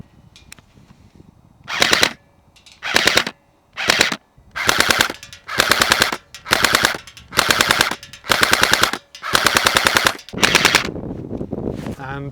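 A KWA Ronin T10 airsoft electric rifle with recoil fires repeated full-auto bursts outdoors on a range, about ten rapid rattling strings separated by brief gaps, close and loud over faint wind-like background noise.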